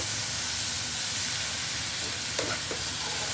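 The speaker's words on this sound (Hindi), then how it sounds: "इसको अच्छी तरह से हम भूनते हैं जी।" Sweet vermicelli roasts in a pan with a steady, even hiss of frying and one faint scrape from stirring partway through, quiet and uninterrupted by voices.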